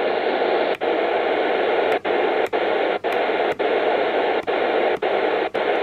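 Radio static and hiss from a Palstar MW550 receiver as a medium-wave signal strengthens, a dense steady noise broken by regular short dropouts about every half second to second.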